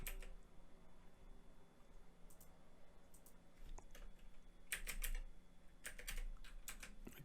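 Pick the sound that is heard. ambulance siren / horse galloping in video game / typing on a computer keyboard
typing on a computer keyboard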